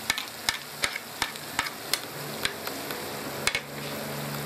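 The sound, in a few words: frying tomatoes with red chili and turmeric for moong dal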